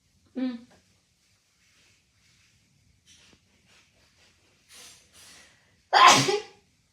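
One loud, close sneeze comes near the end, after a brief voice and a few soft breathy sounds in an otherwise quiet room.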